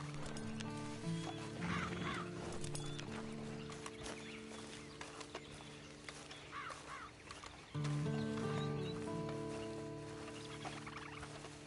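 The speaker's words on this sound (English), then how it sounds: "Get on the horse when you're ready." Horse hooves clip-clopping in the video game Red Dead Redemption 2, a steady patter of steps in the near field layered over a background music drone.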